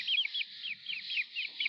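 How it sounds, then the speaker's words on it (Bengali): Two local laying hens make a rapid run of soft, repeated clucks close by, fairly faint, with no talk. "আর ডিম পাড়া মুরগি আছে, সেগুলো দেশি মুরগি দুটো আছে"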